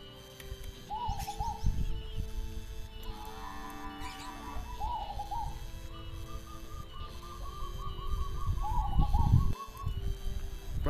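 Zebra dove (perkutut), a barred Majapahit/Jolotundo type, coos repeatedly in short trilling phrases at night, fairly close, over a low background rumble and faint handling noise.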